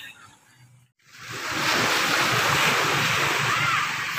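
Sea waves rolling onto Aroma Beach in San Jose, Occidental Mindoro, a broad steady wash of surf rising after a quiet moment, with some wind rumble.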